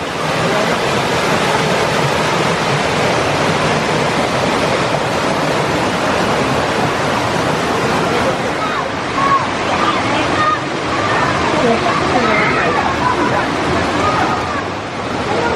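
A waterfall rushes along a hiking trail, giving a loud, continuous roar of falling water that fills the whole stretch, with people talking over it at times.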